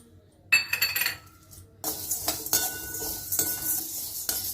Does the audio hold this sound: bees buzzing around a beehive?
no